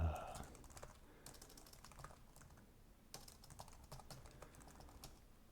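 Computer keyboard typed on steadily, a run of soft close key clicks at a moderate pace with a brief louder knock at the start.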